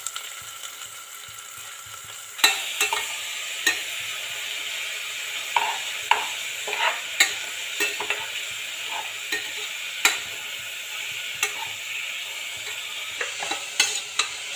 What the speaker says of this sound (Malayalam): ഈ രീതിയിൽ നന്നായി ഇളക്കി കൊടുക്കുക. നല്ല ഗോൾഡൻ കളർ ആവുന്നത് വരെ ഇളക്കിക്കൊണ്ടിരിക്കുക.